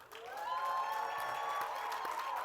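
Steady applause and cheering from a conference audience greeting Birmingham, Alabama mayor Randall Woodfin, a dense sustained clapping with a raised voice or cheer ringing through it, continuous and fairly loud throughout.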